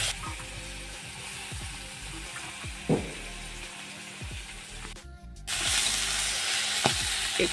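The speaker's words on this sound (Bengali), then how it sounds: "একটু আদা আর পেঁয়াজ ভেজে নিচ্ছি" Ginger and onion frying in a pan, a steady broadband sizzle with a few faint clinks and a brief louder burst of hiss near the end, no voices.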